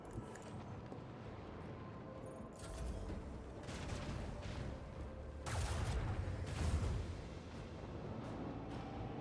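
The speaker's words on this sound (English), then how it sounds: "Initiate macro cannon barrage." Macro cannon barrage from the space combat of the video game Rogue Trader: deep booming volleys and rumbling blasts that build in bursts over a sustained, fairly faint background of battle noise.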